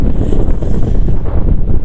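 Cold wind buffets the microphone at an outdoor campsite in Guaminí, Argentina, a loud continuous low roar and rumble with no speech.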